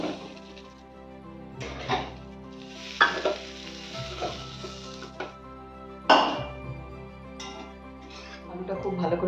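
Potatoes frying in oil in a kadai for Kashmiri dum aloo, a bright crackling sizzle that surges in bursts as the pieces are stirred, with metal clinks and a voice talking over it.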